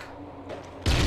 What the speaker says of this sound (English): That was a weird choice of a flashbang.